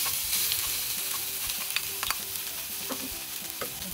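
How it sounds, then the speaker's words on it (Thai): Pounded curry paste for beef kua kling sizzles and crackles in hot oil in a pan, with steady frying hiss and occasional scraping stirs, close up. "พอน้ำมันเริ่มร้อนเราใส่เครื่องที่เราโขลกลงไปค่ะ"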